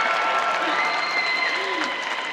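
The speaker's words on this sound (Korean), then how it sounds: "큰 박수 부탁드립니다" Steady, dense audience applause fills a film festival open talk for the film Broker at the Busan International Film Festival. It is a continuous wash of many hands, loud and sustained, with faint tonal sounds mixed in.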